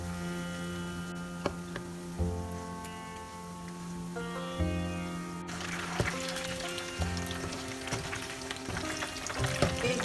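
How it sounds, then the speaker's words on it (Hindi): Chicken pakora deep-frying in hot oil gives a steady, soft bubbling sizzle with small ticks and clinks throughout, slightly brighter in the second half. "बोथ साइड इवनली फ्राई करना है जब तक नाइस गोल्डन और क्रिस्पी हो जाता है तब तक"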